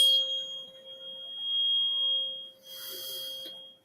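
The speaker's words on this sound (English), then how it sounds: "This was 432 hertz." Steady pure electronic tone held at 432 hertz, playing as a sustained hum with a faint higher overtone, close and alone, ending in a brief burst of brighter noise.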